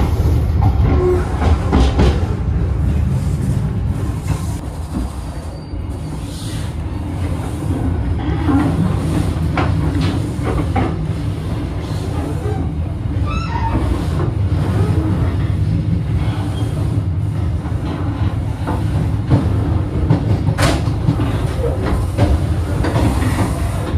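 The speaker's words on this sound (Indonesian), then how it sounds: "Untuk kereta api Cikuray ini rangkaiannya menggunakan rangkaian kereta api ekonomi Kemenhub" A Cikuray economy train, running from Garut toward Jakarta, rumbles steadily along the rails with continuous clatter and hiss from inside the carriage. The noise is loud and close throughout.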